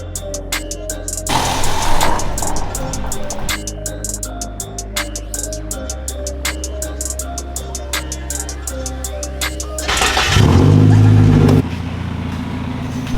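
A convertible car being moved inside a shop, with a low engine drone, rattling clicks and knocks, and a louder surge of engine noise near the end; no one speaks.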